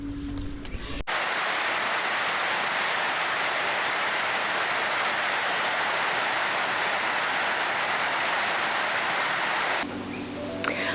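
Steady, dense rain pours down loudly and evenly for several seconds, a close wash of falling water.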